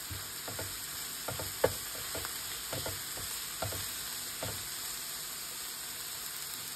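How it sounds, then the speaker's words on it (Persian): Fresh cilantro and fenugreek sautéing in a pan for fish ghalieh, a soft steady sizzle with scattered clicks and scrapes of stirring, close and quiet, no talking. "این سبزی نباید خیلی سرخ شه، اصلا لازم نداره، ولی خب یه تفت باید بهش بدیم یه خورده رنگش عوض شه"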